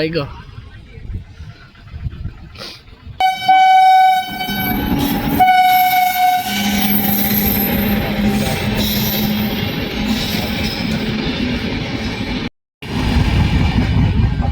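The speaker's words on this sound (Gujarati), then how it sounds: "હાલો ભાઈ ટ્રેન આવી ગઈ છે" A train pulls into a station, its long horn sounding loud and close above a steady rumble of rolling wagons and squealing wheels, while people talk nearby.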